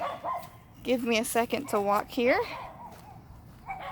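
Neighbor dogs bark and yip in the background outside near a blackberry patch, partly under a nearby person's speech.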